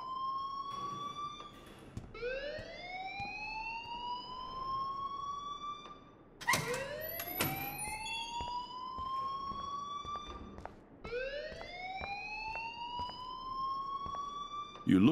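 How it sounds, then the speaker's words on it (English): An alarm blares in the video game Life Is Strange, a loud rising electronic siren that repeats in long sweeping cycles with sharp clicks between them, filling the whole stretch with steady background noise. "please turn off that alarm since that's your job"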